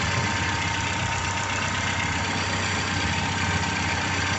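A car engine idles steadily while warming up, with a low, even rumble and faint knocking pulse, close and constant throughout.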